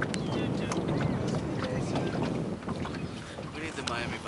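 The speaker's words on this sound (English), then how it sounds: "That's got to be an offshore boat." An offshore powerboat engine roars steadily as it passes, heavy wind buffeting the microphone, a loud continuous rush and rumble throughout, with faint voices underneath.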